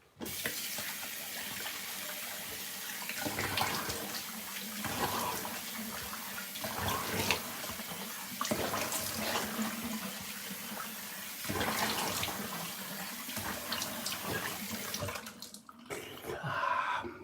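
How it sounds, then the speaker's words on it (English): Steady running tap water splashes into a sink for several seconds, with brief interruptions as hands move through the stream, then stops near the end. "Now I'm going to do a brisk rinse with cold water."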